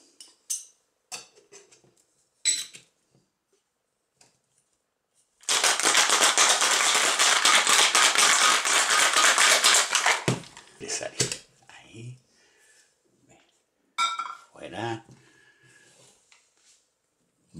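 Ice rattles hard inside a cocktail shaker as a Ginger Blue with vodka is shaken, a loud, dense burst lasting about five seconds, with scattered clinks and talk around it.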